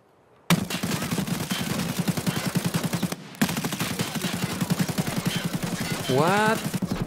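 Video game gunfire, rapid repeated shots in bursts with a brief pause midway, loud and close, ending with a rising mechanical whine.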